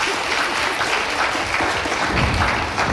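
A live audience at a French-language event claps for itself, a dense, steady wash of applause that keeps up without a break and sits fairly close.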